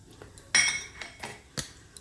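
Spatula clinks against a pan while whole tempering spices are stirred in hot white cooking oil, a few sharp metallic taps spaced through a quiet stretch with faint sizzle beneath.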